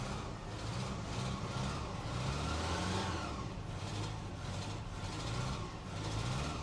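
A Mitsubishi Ram 50 truck engine runs after carburetor work, a steady close mid-pitched churn with slight surges and dips in revs, rough and uneven throughout with no talking.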